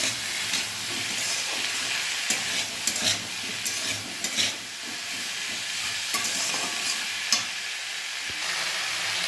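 Vegetables frying with salt and turmeric in a pan, a constant hissing sizzle broken by frequent clicks and scrapes of stirring, close and continuous with no voices.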